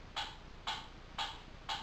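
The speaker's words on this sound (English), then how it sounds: "What is that mysterious ticking noise?" Four evenly spaced ticks, about half a second apart, sound crisp and moderately close against a quiet background.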